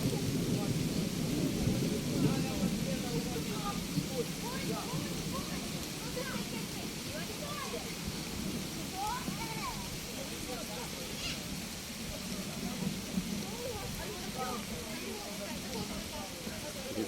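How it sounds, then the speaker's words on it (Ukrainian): Steady rain hisses across the whole stretch at a river on a warm July day, with a low rumble underneath and people talking over it. "Дощ начався"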